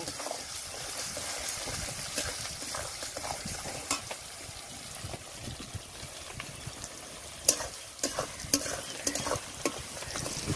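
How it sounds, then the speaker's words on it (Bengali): Chopped onion fries in hot oil with dried red chili, bay leaf and whole cumin for chicken curry, a continuous crackling sizzle with stirring scrapes and sharper spatula knocks toward the end. "এইবার দিয়ে দেব পেঁয়াজ কুচি। পেঁয়াজটা এবার ভালো করে ভেজে নেব।"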